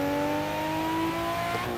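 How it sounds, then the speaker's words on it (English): A Scion FR-S with an RB26 engine swap revs with a sustained, steady engine drone and a slight pitch change, loud and close, with no voices. "I feel like the RB26 itself has like a better noise."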